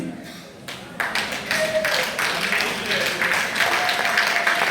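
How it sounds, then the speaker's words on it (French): Audience applause rising after a brief quieter start and swelling into sustained clapping at a charity gala in the DRC, greeting the President of the National Assembly, with voices mixed in. "pour que nous puissions l'applaudir"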